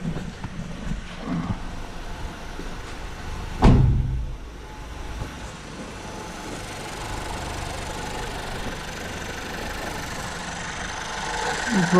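A Skoda Octavia Mk3 1.2 TSI just restarted after a fuel injector replacement settles into a steady, low, even idle hum, with one sharp knock-like transient early on and no speech.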